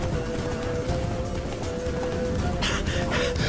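Hooves of Roach, Geralt's horse in The Witcher 3, clip-clop at a steady running pace beneath a continuous droning game ambience, with the hoofbeats becoming slightly more pronounced toward the end.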